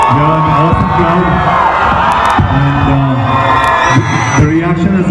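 A large, loud crowd at a Bollywood fashion show event cheers, whoops and shouts continuously, with voices rising in bursts throughout.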